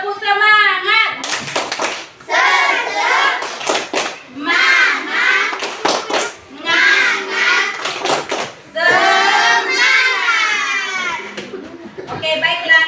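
Schoolchildren chant a rhythmic 'tepuk semangat' clapping routine in a classroom, with loud voices in unison punctuated by bursts of sharp group claps at regular intervals.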